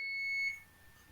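A kitchen timer gives a single short, clear electronic beep at close range, then falls quiet, with no talk.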